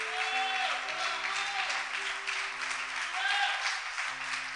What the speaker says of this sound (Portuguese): Aplauda o Senhor com toda a sua força.